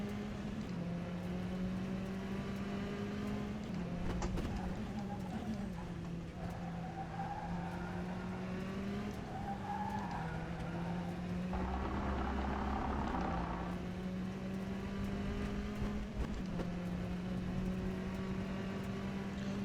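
A race car laps a circuit in the rFactor 2 sim racing game, its engine note rising and falling through gear changes and revs, with brief tire squeals in corners. The sound is steady and close, with no voices.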